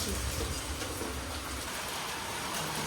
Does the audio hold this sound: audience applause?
no